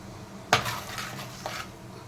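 A utensil clinks against a dish while bun snack ingredients are mixed, with one sharp knock followed a second later by a softer one over quiet background.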